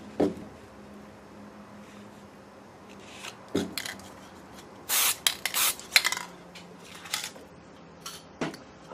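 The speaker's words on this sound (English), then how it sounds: "I might have overloaded the fixative a little bit there. Should have only sprayed once." Aerosol fixative sprayed over an artwork in a few short hissing bursts, several quick puffs clustered together after some quieter handling noises, close and fairly soft.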